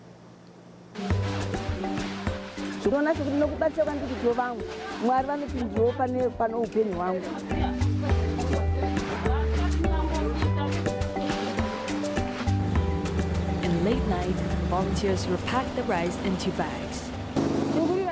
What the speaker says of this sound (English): The sound you hear is coming from the generator.